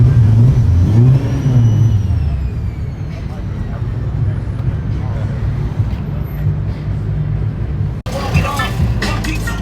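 A big V8 car engine revs loudly and close by at the SEMA auto show, climbing in pitch and then settling into a deep, steady rumble, with voices nearby.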